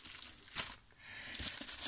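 Short bursts of paper crinkling, close and crisp, with a brief quiet pause in the middle before more rustling.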